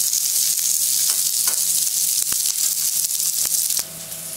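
Fried capsicum and onion go into a hot pan and are mixed in, a steady bright sizzle broken by a few sharp clicks of a spoon against the pan.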